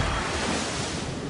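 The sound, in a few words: roaring wall of water, waves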